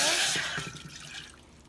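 Water being poured for gelatin jello, a soft close splash and trickle that fades over about a second and a half, faint and alone.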